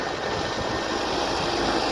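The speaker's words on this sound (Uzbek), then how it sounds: "Traktor ham o'tib ketyapti." A steady, loud tractor engine rumble with broadband noise and no breaks, close by as the tractor passes along a reservoir shore.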